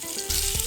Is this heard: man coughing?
no